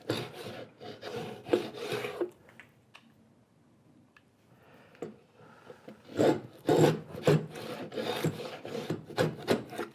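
A hand tool rasping and paring into the corners of a cut in wood while a sharpening plate holder is made, in bursts of close scraping strokes with a quiet pause partway through.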